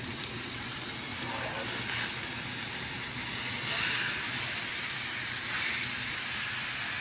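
A porterhouse steak sizzling in a hot pan just after flipping, a loud continuous hiss and crackle filling the scene with a faint voice beneath.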